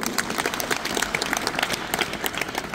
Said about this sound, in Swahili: wote tupige makofi kwa CRDB na TARURA afu tuondoke